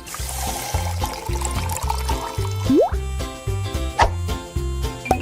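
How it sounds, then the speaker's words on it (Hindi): Water poured into a cup with plopping and gurgling, a brief rising pitch as it fills, over a rhythmic repeating musical backing. "और अब इसमें थोड़ा पानी मिलाया।"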